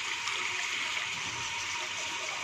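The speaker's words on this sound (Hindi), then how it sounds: "इसमें पहले पानी डालेंगे," Water poured into a cooking pot for making shami in a home kitchen, a steady hissing rush of liquid that holds constant and close throughout, with no talk.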